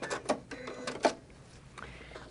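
A sewing machine stitches a diagonal line of quilt binding toward a corner on a holiday table runner, its bobbin running out. Short bursts of stitching come close and fairly quiet, with faint voices in the background.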